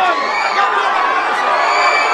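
Flamengo football fans greeting their arriving players, a loud, dense crowd roar of shouting and cheering voices with whoops layered over it.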